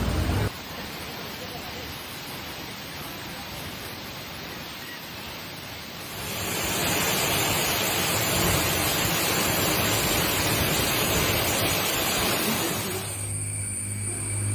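Palaruvi waterfall in Kerala roars as a loud, continuous broadband rush of falling water, close and steady, growing louder partway through before easing slightly at the end.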